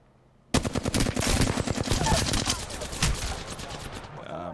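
Automatic weapon fire in the video game Apex Legends, a sudden loud burst of rapid shots that runs continuously for about four seconds before cutting off.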